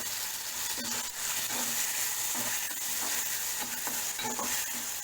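Ground tomato paste sizzles and fries in oil for a brinjal thokku, a steady close hiss with a spoon stirring and scraping the pan at intervals, no talking.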